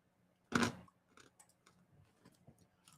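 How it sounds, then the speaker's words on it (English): Someone chews a cough drop close to the microphone, with one loud crunch followed by faint, irregular clicks and mouth sounds in near silence. "I forgot I had a cough drop in my mouth. So you probably heard me chewing"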